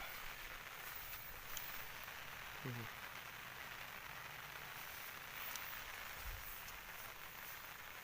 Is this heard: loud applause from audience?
no